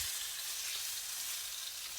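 Flipped chicken pieces for chicken Marsala sizzle steadily in a hot pan, a soft, even hiss of frying with no voices.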